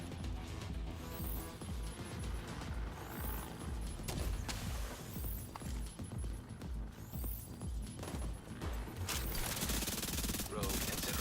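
SMG fire in The Division 2 plays as dense, rapid automatic bursts over a loud, continuous game soundtrack with low throbbing and explosive impacts, filling the whole stretch with battle noise.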